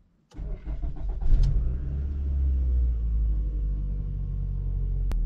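An older used car with about 202,593 km cranks and catches after a short pause, then settles into a steady, low rumbling idle that stays fairly quiet and even, with little vibration.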